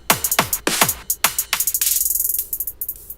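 Electronic drum hits and synth notes played through an Ableton low-cut high-pass filter set at 495 Hz, leaving thin, bright percussive clicks and taps in a quick irregular rhythm, close and moderately loud with no voices.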